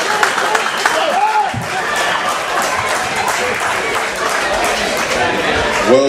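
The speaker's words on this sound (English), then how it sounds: "let's give them a hand clap" A crowd of UCLA Bruins supporters claps and chatters at a steady level throughout, with talking and murmuring mixed into the sustained applause.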